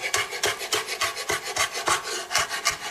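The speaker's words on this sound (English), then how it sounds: "I just start chiffonading it, which just means just in really thin strips." A knife cuts fresh basil into thin chiffonade strips, making a steady series of quick rasping cuts close by with no voices.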